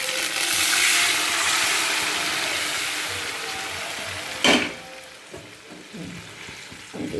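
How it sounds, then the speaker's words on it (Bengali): Boiled mung dal is tipped into a hot pan: a loud, broad frying hiss fills the first seconds, then a sudden burst as the dal lands, followed by quieter bubbling and stirring clatter, with no voices. "তো চলো মুগ ডালটা এখন দিয়ে দিই।"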